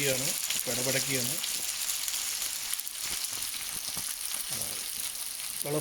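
Marinated chicken pieces for a Malabar biryani fry in hot oil. They give a steady, dense sizzle with busy crackling and popping, close and loud, and a voice talks over it at the start and end.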